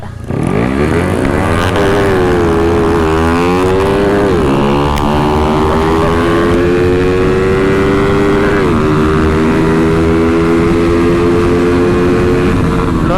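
A loud motorcycle engine revving continuously, pitch rising and falling with throttle, close by, with faint voices underneath.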